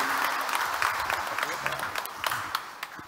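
A church congregation applauds during a New Year's Day Mass, steady clapping from a sizable crowd with a faint voice or two underneath, moderately loud and reverberant.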